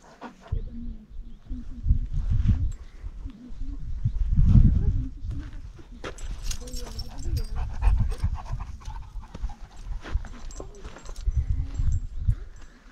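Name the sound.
dog panting on a mountain summit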